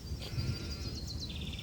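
Faint, quavering bleat from Betsy, a sheep in the video game Gothic 2, heard low in the mix alongside thin, high chirping ambience in a pasture setting.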